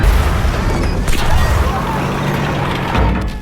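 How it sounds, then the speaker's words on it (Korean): A loud, booming explosion in a World War II film about a Soviet tank crewman charging German trenches, with dense low rumble and crashing debris that swells, dips, then surges again near the end. "무언가 폭발하더니"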